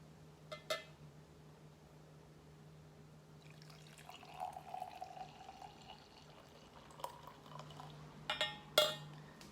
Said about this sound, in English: And I'm just going to pour this in here.